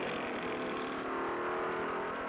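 Ford race cars in the Daytona 500 enter the last turn, their engines blending into a steady, continuous roar that sounds fairly faint and distant, with no voices over it.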